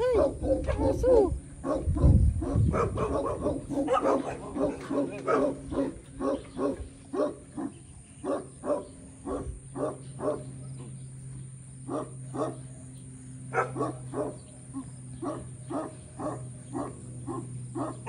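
A dog barks in a steady series of sharp repeated yelps near Cavinti, Laguna, with an engine hum underneath and people talking in the background.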